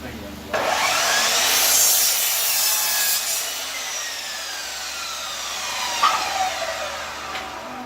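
A handsaw cuts through a board for a floating shelf, harsh raspy strokes repeating close up, with a couple of brief pauses between passes.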